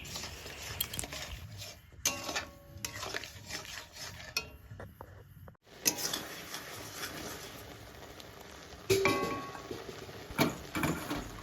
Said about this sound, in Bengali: এবার তো আরও ঘনই বেশি নাড়তে হবে।